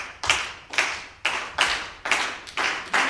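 An audience claps along to a New Orleans second line beat, a loose but steady series of about seven group claps in a repeating rhythm, full and close with no talk over it.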